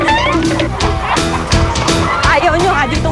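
Native chickens and turkeys in a grandmother's yard, loud close squawks and gobbling mixed with yips that sound like a dog, with people talking over the commotion.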